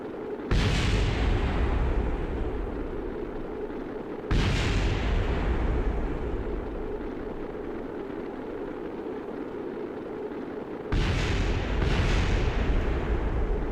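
Explosions in Kerbal Space Program hit as loud, sudden booms, three main blasts each followed by a sustained roaring rumble that slowly fades.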